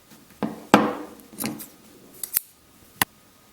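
Scissors snipping heat-shrink tubing on a small Harbor Freight mini flashlight, several sharp close cuts and clicks spaced unevenly in a quiet room.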